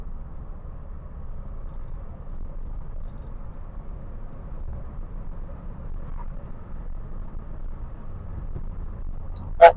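A classic Mini Metro 998 with an SU carburettor driving along a road, heard from inside as a steady low engine drone and rumble at moderate level, with no distinct gear changes standing out.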